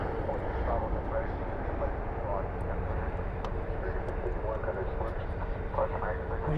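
A jet airliner lands at night at Dallas Fort Worth with spoilers up and thrust reversers deployed, a loud sustained engine rumble and roar throughout, with a voice talking over it.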